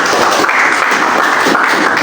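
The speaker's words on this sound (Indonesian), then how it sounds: "Tepuk tangan tuh Bapak Ibu" Loud, continuous clapping from a room of people during an eighth-grade Islamic religious education lesson, an even, rushing wash of applause with no talk over it.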